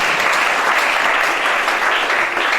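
A church congregation applauds for Shana with steady, dense clapping that fills the room, loud and close throughout with no pauses.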